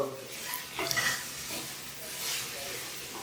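Okra (bhindi) fries in a pan and is stirred, giving a soft sizzle with a few scraping strokes of a spoon, fairly faint and close, with no talking.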